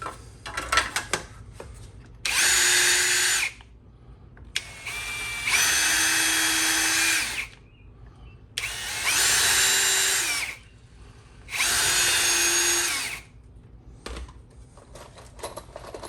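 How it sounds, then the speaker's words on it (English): A power drill bores holes into the wooden frame of a workbench, four loud, close bursts of whining drilling of a few seconds each, separated by quieter handling noises. "Got our 4 holes drilled."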